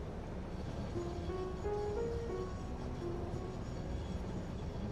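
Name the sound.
train ride in Satisfactory video game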